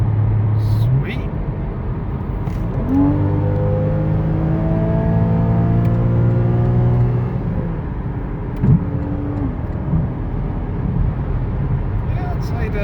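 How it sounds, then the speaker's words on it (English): A Porsche engine running and revving after an intermediate service, a loud close hum that rises in pitch through several sweeps and then settles back, with people talking briefly over it. "I'd say the engine's running good."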